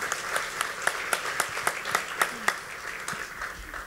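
Audience applause at a community volunteer awards ceremony, a steady wash of clapping with sharper individual claps popping out near the front, sustained for several seconds at moderate loudness.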